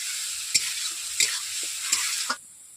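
Garlic sizzling loudly in hot oil for pangas fish dhoka, with a steady bright hiss broken by four sharp spoon scrapes as it is stirred; the sizzle drops away abruptly near the end.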